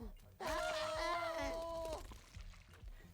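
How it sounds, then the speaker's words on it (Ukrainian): A video game character in Struggling lets out a long, strained, wavering scream lasting over a second, followed by faint low thuds. "Він репетує так жорстко."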